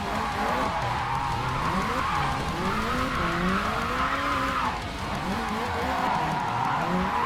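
Video game car drifting, with continuous screeching tire squeal and a revving engine whose pitch sweeps up and down, loud and steady throughout, without anyone talking.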